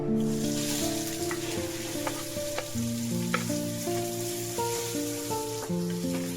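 Potato pieces dropped into hot oil for a veg thali, a steady loud sizzle and crackle of frying that runs throughout with no talk.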